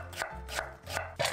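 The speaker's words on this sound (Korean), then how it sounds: "초록 부분으로 무 3분의 1개 정도를 채 썰어 준비하세요." A knife julienning the green part of a Korean radish makes four quick, crisp chops on a cutting board in an even rhythm, close and quiet with no talk.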